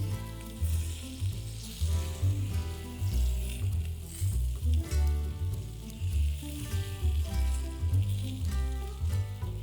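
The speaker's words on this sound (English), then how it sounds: "Then turn the bacon slices over to caramelize the sugar." Bacon slices sizzle loudly and steadily in a hot pan as they are turned over to caramelize the sugar, with a dense, crackling fry that swells and dips in bursts.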